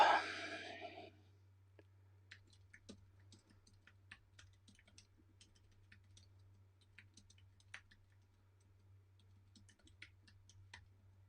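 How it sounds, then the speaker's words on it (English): Typing on a computer keyboard: sparse, irregular light clicks over a steady low electrical hum, close and fairly quiet, with no one talking. "I stopped talking because I was typing"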